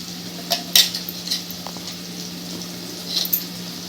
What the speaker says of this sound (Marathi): तर हा मसाला आपण आता मस्त ह्याच्यात चांगला परतून घेऊ